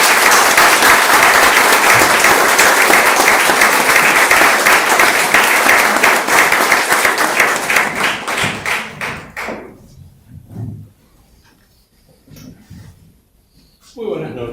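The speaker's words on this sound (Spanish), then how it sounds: "Recibamos entonces con un fuerte aplauso al doctor Leonardo Bariani." A conference audience applauds to welcome a doctor giving a talk on hyperinflation, loud sustained clapping that thins out and fades into scattered claps and quiet.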